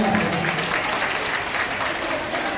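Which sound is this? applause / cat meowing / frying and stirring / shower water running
applause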